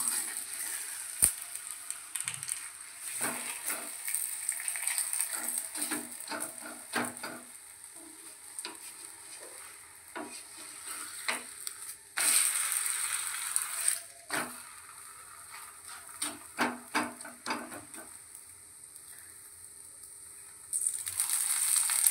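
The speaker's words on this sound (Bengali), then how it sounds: "পরোটাটা ভাজা হচ্ছে।" Aloo paratha frying in oil on a tawa, a steady soft sizzle broken by repeated scraping and pressing sounds from a spatula, with brief louder bursts of crackle near the end.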